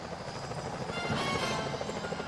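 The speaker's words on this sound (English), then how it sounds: "Those security choppers are bad news." Security helicopter from the video game Sly Cooper: Thieves in Time, a steady rotor whir that holds at an even, moderately loud level for a couple of seconds, swelling slightly midway, with no talk over it.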